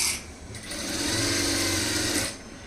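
A sewing machine stitches blouse lining in one close burst of rapid whirring that speeds up, holds steady, then stops. A quieter mechanical hum comes before and after.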